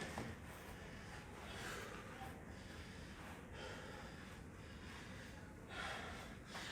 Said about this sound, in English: I'm breathing hard, guys.